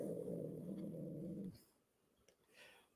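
A dog lets out a low, sustained growling moan for about a second and a half, then it cuts off into quiet room noise with a few faint rustles.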